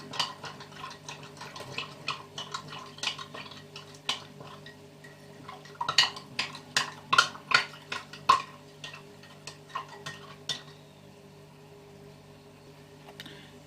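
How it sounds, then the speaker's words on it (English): A spoon stirs sauce in a pot during Sunday dinner cooking, giving off irregular light clinks and taps against the pot over a faint steady hum, with a busier flurry in the middle and no talking. "Give it a nice good stir."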